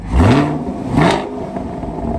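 1967 Plymouth Barracuda V8 revving twice through a quieter exhaust, two quick rising blips about a second apart, close and loud, then settling into a low idle.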